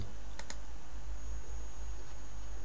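Two quick mouse clicks while installing screencast software on a computer, sharp and close together near the start, then only a steady low hum.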